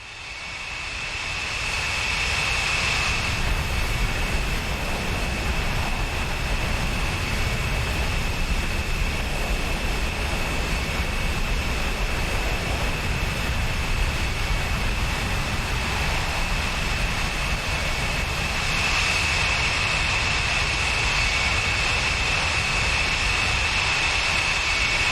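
An F-14B jet engine at full afterburner in a flight simulator game gives a steady, loud, broad roar with a thin whine on top that holds without letup, and no voices are heard.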